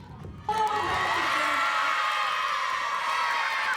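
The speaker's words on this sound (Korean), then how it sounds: "국내 최고의 프로야구 선수들이 눈앞에 등장하자 아이들의 환호성이 터집니다" Elementary school baseball players in Daejeon and South Chungcheong erupt in shrill, loud cheering as professional baseball players appear, the crowd of young voices bursting in suddenly and holding steady.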